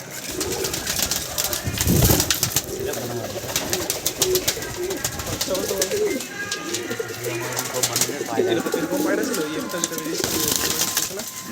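Madrasi pigeons coo in low rounded calls, close and fairly loud, repeating through the scene while someone talks over them and a brief flutter sounds early on.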